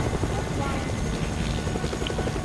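A helicopter in Fortnite gives off a steady, close rotor thrum with a dense low chop, while players talk over it.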